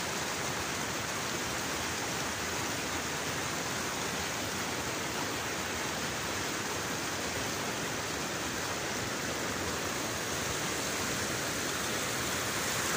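Steady, loud rushing floodwater roars without a break across a farm, a dense broadband wash like a strong flood current.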